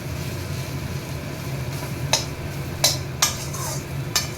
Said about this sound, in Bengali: এবারে এটাকে ভালো করে কষাতে হবে, খুব ভালো করে কষাতে হবে।